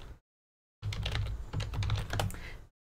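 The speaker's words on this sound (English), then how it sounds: "I'm going to go ahead and type it out in chat real fast." Rapid typing on a computer keyboard, a dense run of close, crisp key clicks lasting about two seconds after a short silence, with no talking.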